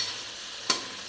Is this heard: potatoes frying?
yes